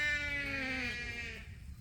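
A single sheep, one of a flock being moved to a new row on a farm, gives a long, loud, wavering bleat close by that fades out after about a second, with faint background rustle.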